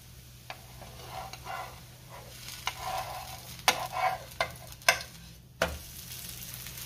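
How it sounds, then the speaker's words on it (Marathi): Cucumber dhirde, a Marathi savoury pancake, fries in oil in a pan after being flipped, giving a steady soft sizzle with scattered scraping and tapping clicks from a spatula, close by and without talk. "आता आपण वरच्या साईडला सुद्धा थोडं तेल लावून घेऊया आणि हे धिरडं पलटी करून घेऊया।"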